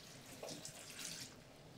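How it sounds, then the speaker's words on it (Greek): Water is poured into a mix while making a vegan cheesecake, a faint, continuous splashing trickle with a few brighter surges, quiet and close, with no talk over it. "Λοιπόν, θα ρίξουμε νερό."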